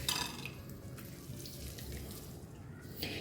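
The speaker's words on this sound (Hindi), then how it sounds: "आप और सारा पानी निकाल देंगे इसका।" Water drains and splashes from chhena being rinsed for rasgulla, a soft continuous trickle with a brief louder gush at the start and end, faint and alone.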